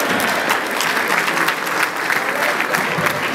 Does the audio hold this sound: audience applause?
yes